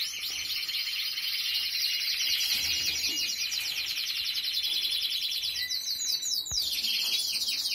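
Pet birds in a cage chirping and twittering continuously, a dense, bright chorus of fairly close calls as a parent bird feeds its chick, with no talking.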